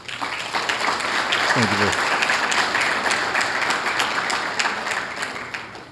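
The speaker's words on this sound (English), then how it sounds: "I'd like to give him a round of applause if possible" Audience applause for an honoree at a Southfield police awards ceremony, a loud, sustained wash of clapping from a crowded room, with a brief spoken voice partway through.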